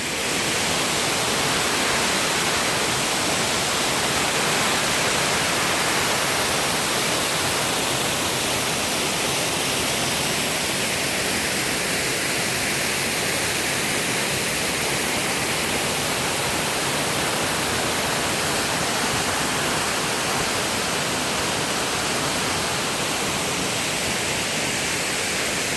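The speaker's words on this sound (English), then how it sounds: "And my first waterfall in Indonesia." Jagir Waterfall in Banyuwangi, Indonesia, a steady broadband roar of falling water, loud and unbroken throughout, with no other sounds standing out.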